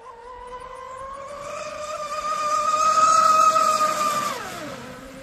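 A TFL Twin Cheetah RC boat on a 6S battery runs at full throttle, its high motor whine rising in pitch and growing louder as it passes, then dropping sharply as it speeds away.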